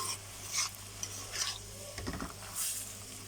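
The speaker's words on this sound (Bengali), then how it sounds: "এভাবে নেড়ে চেড়ে আমি একদম ভাজা ভাজা করে নেব শাকটা" Spinach and dried shrimp are stirred and fried in a pan: a soft, low sizzle with repeated scraping strokes of a utensil, quiet and close.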